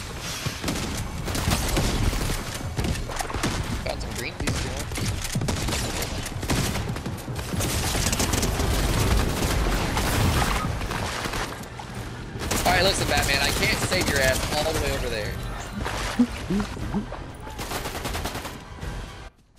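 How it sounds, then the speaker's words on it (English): Gunfire in a Fortnite zero-build squads match, with rapid bursts and scattered shots throughout alongside game effects, while a player talks over the action. "I'm hearing gunshots over there."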